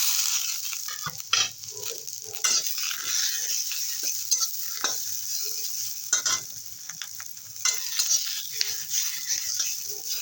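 Fish fries in a pan, with a constant hissing sizzle and repeated scrapes and clicks of stirring or turning, close by and fairly loud for the whole stretch.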